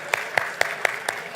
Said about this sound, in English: Loud applause. Keep clapping.